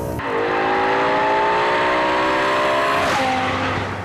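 A BMW M6 with a V10 engine accelerates hard out of a corner, loud and close, its engine note climbing steadily before a brief break and a gear change near the end, with faint tire noise.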